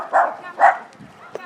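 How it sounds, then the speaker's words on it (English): A troop of dachshunds in Johannesburg gives two sharp, close barks in quick succession, followed by softer yips and a short final yelp. "we've got a troop of dachshunds"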